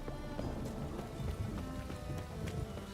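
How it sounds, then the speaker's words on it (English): Steady rain from The Witcher 3: Wild Hunt fills the scene, a dense continuous hiss of falling water with scattered drop-like ticks and soft low thuds underneath, no voices. "Rain again."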